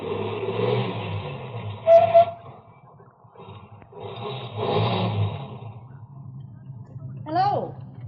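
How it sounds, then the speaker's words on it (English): A car in a radio drama slows, stops, turns around and drives back, its engine rising and fading in uneven swells of moderate loudness, with a voice speaking over part of it. "Ahead, the car that passed me slowed down, and it also stopped. Then turned around and came back toward me."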